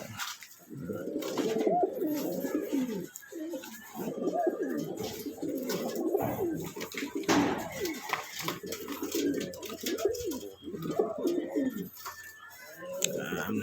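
Young fancy pigeons coo in repeated low, throaty rolling phrases close by, one after another. A person talks softly at times over the birds.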